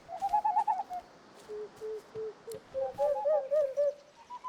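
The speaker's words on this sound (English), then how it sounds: "Three owls in the enclosure stare you down blankly, fluffing their feathers." Owls in an enclosure in the video game Divinity Original Sin II give a string of soft, hooting coos and warbling calls, some in quick bursts, some drawn out, at moderate distance.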